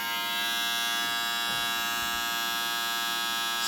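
A TPOB Skull Black Out electric hair shaver runs with a steady, close, high-pitched motor buzz that holds evenly throughout without interruption.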